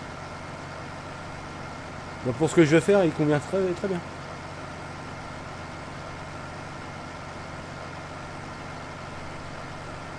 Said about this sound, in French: Il est vieux ton tracteur.